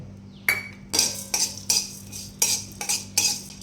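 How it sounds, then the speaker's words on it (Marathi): Fenugreek seeds stirred in hot oil in a pan with a metal spoon, giving a series of distinct clinking scrapes against the pan at a steady rhythm, close and fairly loud. "आता या तेलामध्ये भाजून घेऊ ही 1 चमचा मेथ्या"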